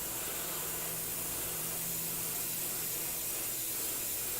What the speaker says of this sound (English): I'm just letting my Vallejo surface primer through the airbrush here